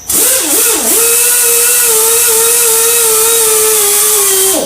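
A buffing wheel polishes the edge of a shell, giving a loud steady high whine that dips and wavers briefly as the piece meets the wheel, then holds constant.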